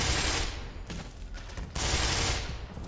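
Rapid machine gun fire in the video game Black Mesa rattles in two dense bursts with a brief lull between them, loud and close, with no talk.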